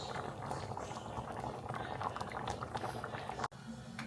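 A pot of red beans simmers as it cooks down for creamy red beans and rice. Dense, continuous bubbling stays close and even, then briefly cuts out near the end before the boiling resumes.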